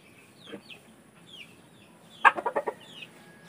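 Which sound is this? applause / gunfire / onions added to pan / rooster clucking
rooster clucking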